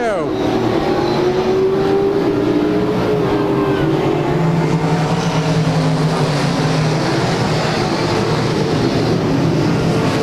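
Stock cars restart a race at Claremont Speedway, a loud continuous roar of engines with rising revs and pitch sweeps as the pack accelerates, and commentary voice mixed in.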